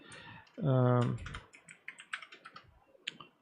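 A short spoken remark opens, then clicks of typing on a computer keyboard follow, close and fairly quiet in an irregular patter of individual keystrokes.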